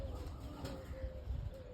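Kept pigeons coo softly at a distance, low throaty calls repeating over a faint background rumble, with no talking.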